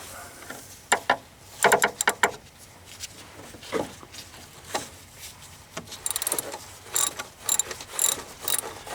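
A ratchet with a 1/2 inch socket clicks in short bursts on a Mustang power steering pump. The quick pawl ticks are close and fairly quiet, with pauses and small shuffles between the strokes.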